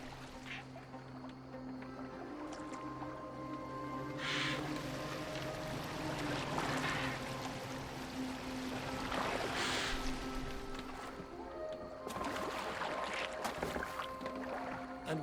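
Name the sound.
boat on water in video game Assassin's Creed Valhalla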